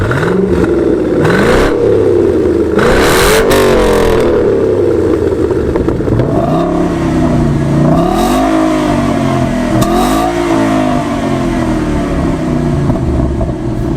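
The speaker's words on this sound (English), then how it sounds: "Let's see what this Corvette sounds like with this aftermarket exhaust." A loud Chevrolet Corvette engine with an aftermarket exhaust revs repeatedly, rising and falling in pitch with a deep, rumbling exhaust tone close by.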